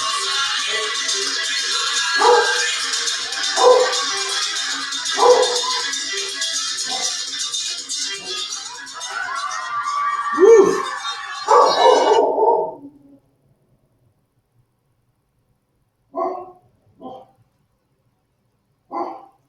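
A dog barks in short, sharp bursts amid a busy, noisy background; after a sudden cutoff, a few more isolated barks follow in near silence.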